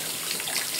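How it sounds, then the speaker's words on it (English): Tap water runs steadily into a sink while cups are washed, a brief continuous hissing splash that stays fairly faint and even throughout. "Wash the cups, wash the cups."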